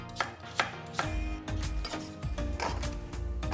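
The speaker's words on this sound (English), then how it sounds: "Cut the apple into appropriate sizes." A knife cuts an apple into pieces for vegan kimchi, giving repeated crisp chopping strikes in an uneven rhythm, close and fairly loud, with no one talking.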